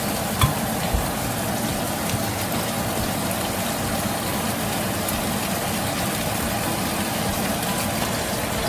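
Sweet and sour chicken frying in a pan with oyster sauce just added, a steady, close sizzle with a few faint knocks of utensils near the start and no talking.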